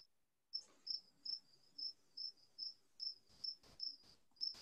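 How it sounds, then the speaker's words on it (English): Loud, close cricket chirping in a steady series of about a dozen short trilled pulses, evenly spaced, with faint room noise and a few thumps behind, heard during a town selectboard meeting. "It's very loud cricket"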